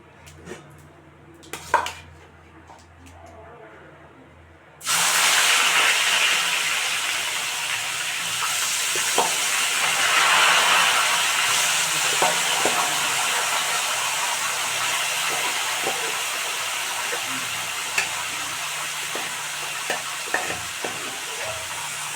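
Figs dropped into hot oil in a pan for a Bengali fig curry, setting off a sudden loud, steady sizzle and hiss about five seconds in, with occasional clinks of utensils against the pan.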